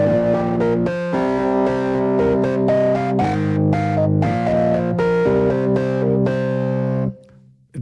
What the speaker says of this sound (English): And the overdrive's fairly powerful.